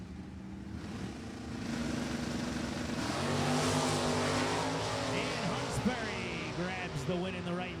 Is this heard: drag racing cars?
yes